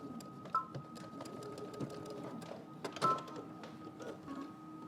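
A sewing machine stitching diagonally across a fabric corner, running quietly in short bursts with faint clicks and a steady whirring hum, no talk.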